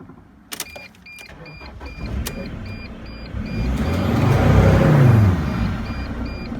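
A Mercedes Sprinter van with a turbo underboost fault code is revved toward 4,000 RPM. After a few sharp clicks, the engine's close, loud drone climbs steadily to a peak, then eases slightly.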